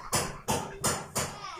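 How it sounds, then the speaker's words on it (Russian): A hammer pounds during home renovation: four evenly spaced, thudding blows, fairly quiet and heard indoors. "да плюс муж молотком колотит"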